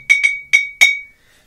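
An empty glass bottle is tapped four times in an uneven rhythm, each strike giving a bright, clear ring that sustains and fades, the last one ringing longest; close and alone with no talk.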